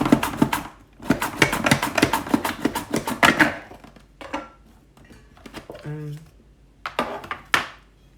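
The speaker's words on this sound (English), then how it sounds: "I'm going to slice them. I'm going to use this little gadget." Thin potato slices being cut on a small kitchen slicer gadget, a fast run of crisp rhythmic clacks for a few seconds, then scattered clicks and knocks, with a brief spoken voice near the end.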